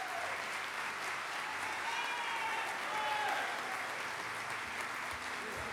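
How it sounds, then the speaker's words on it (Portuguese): Sustained applause from a crowd at a formal legislative ceremony, steady and dense throughout, with clapping filling the room at an even level. "Peço agora uma salva de palmas"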